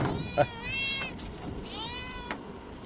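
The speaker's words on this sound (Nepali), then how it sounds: "हेरे म्याउ म्याउ गरेछ यो खाना दिनु पर्यो" A hungry cat meows repeatedly for food, with two clear drawn-out calls and a short one, close by at moderate volume over low room noise.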